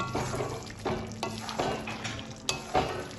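Potatoes being stirred and mixed with chopped coriander and garam masala in a pan for pumpkin chokka, a steady scraping and shuffling of spoon against cookware with soft sizzling underneath.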